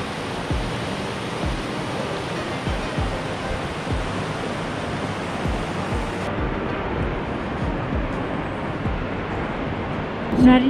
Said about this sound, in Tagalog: Narinig nyo guys yung falls